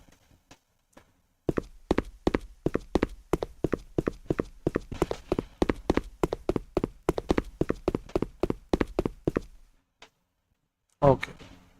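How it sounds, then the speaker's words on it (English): Randomised footsteps in a Unity 3D multiplayer horror game: a steady run of sharp, close steps, each hitting slightly differently, for about eight seconds, then a brief pause and one final thump. "it also makes sense that the footstep play a random sound"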